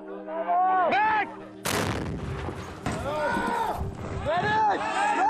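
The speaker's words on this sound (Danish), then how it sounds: "Skud kommer!" Gunfire cracks during combat in Afghanistan involving Danish soldiers, with loud sharp bursts breaking in around shouting voices, one heavy blast dominating the middle before the yelling continues.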